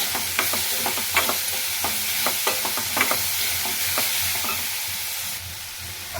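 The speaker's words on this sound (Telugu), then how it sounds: "మీడియం ఫ్లేమ్లో పెట్టుకొని బాగా వేగనివ్వండి." Sliced bitter gourd fries on medium flame for Andhra-style kakarakaya vepudu, a steady close sizzle punctuated by regular spatula scrapes and stirs that fade toward the end, with no talking.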